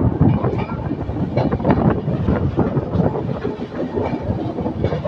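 East Coast Express 18045 runs along in motion, heard from inside a 3rd AC coach with a steady rolling rumble and a fairly regular clickety-clack of wheels over rail joints, close and continuous.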